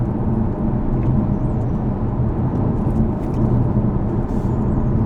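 A Mercedes A 250e plug-in hybrid rolls downhill and gently accelerates, heard from inside as a loud, steady low drone of road and drivetrain noise with faint whirring tones.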